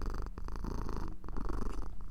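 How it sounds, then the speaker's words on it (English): Female house cat purring steadily while being petted, a close, continuous rumbling purr with no talking. "and she's purring."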